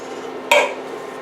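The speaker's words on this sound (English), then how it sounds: "You gotta clean out that dirty can." A single short metallic scrape and clatter inside a dirty can while cooking a pot of homemade Mexican chili, loud and close against a quiet background.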